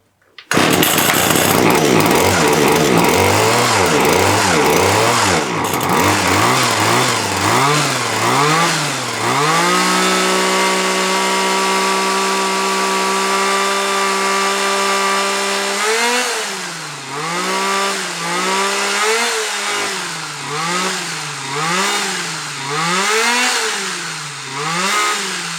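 A TITAN petrol hedge trimmer engine runs loud and close throughout, revving up and down in repeated surges, then settling into a steady high idle before revving in waves again.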